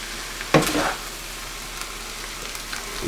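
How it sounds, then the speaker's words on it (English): Chow mein noodles and vegetables being stirred in a frying pan, giving a brief sizzling scrape and toss near the start, then a low steady frying hiss. "give it a really, really good stir. Let's get all these vegetables and noodles mixed together"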